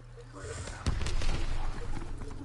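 Gunfire in Call of Duty WW2 online multiplayer, a sharp sniper-like crack followed by scattered shots and rumbling battle noise, loud and close, with a voice briefly speaking.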